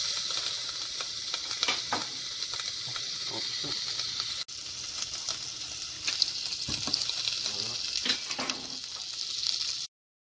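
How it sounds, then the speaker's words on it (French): Butter sizzles and fries in a saucepan as onions are added for a curry, a steady close-up hiss with occasional stirring scrapes. There is a brief cut partway through, and the sound stops abruptly just before the end. "Nous allons mettre du beurre dans une casserole."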